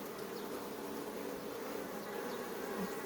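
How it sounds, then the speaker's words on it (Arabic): Honeybees buzz and fan across the frames of an opened ten-frame hive, a steady close drone that holds evenly throughout with no voices. "بدأ النحل ينفخ في الإطارات، بدأ النحل يحاصر الملكة بالعسل"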